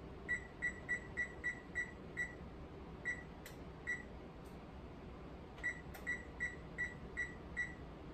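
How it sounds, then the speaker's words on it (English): A kitchen timer beeps repeatedly while being set: quick runs of sharp electronic beeps, a pause with a couple of single beeps, then another fast run, over a quiet room hum. "This time I'm going to reset my timer."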